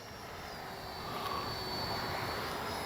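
An Arrows 64mm Marlin RC jet flying touch-and-go passes, its electric ducted-fan whine a steady high-pitched hiss that swells slightly louder midway and holds, with no one talking.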